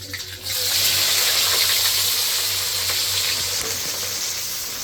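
Spice paste frying in hot oil for biryani meat, with cloves and cinnamon already in the pan, a loud, steady sizzle that bursts in after a short pause and continues unbroken.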